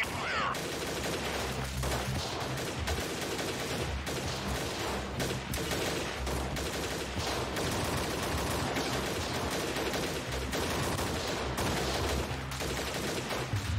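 Sustained gunfire in the video game Freeman: Guerrilla Warfare, a dense and continuous volley of overlapping rifle shots that stays loud and steady throughout with no pauses.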